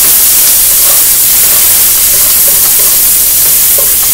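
Onion and vegetables stir-frying in a pan for chicken fried rice, a loud, steady sizzle and hiss with faint scattered pops and crackles, no voices.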